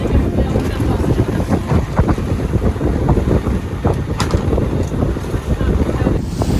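Steady wash of water and wind buffeting around a sailing boat in the Greek Ionian Islands, a constant rushing roar with occasional sharper splashes throughout.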